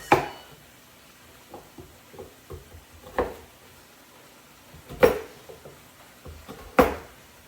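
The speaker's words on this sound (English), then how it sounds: "So you cut these into whatever size chunks you want to cut them in." A knife cuts roasted sweet potatoes into chunks on a board, making several soft sharp knocks at uneven intervals with quieter taps between them, close and clear with no talk.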